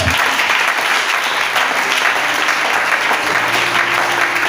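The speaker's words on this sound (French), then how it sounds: "On acclame le Seigneur." Church congregation at a seminar applauding in praise, a dense continuous wash of clapping from a large crowd, loud and sustained throughout.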